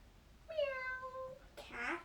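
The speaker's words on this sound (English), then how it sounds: "Cat. A cat." A cat meows once, a clear drawn-out call in a quiet setting, followed by a brief second sound that may be a shorter meow.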